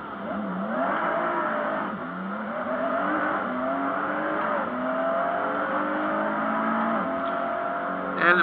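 Nissan GT-R engine in a sim racing game revs hard and continuously, rising through several gear shifts in a loud, steady, close-up drone with no talk over it.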